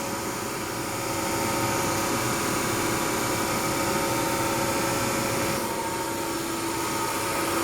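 A DC series motor running under load on a lab test bench gives a steady, loud, continuous whirring hum with a broad airy hiss that holds level throughout.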